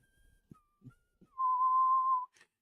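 A person whistles a single steady, clear tone, heard close and alone after a few faint soft knocks and taps, ending with a short click.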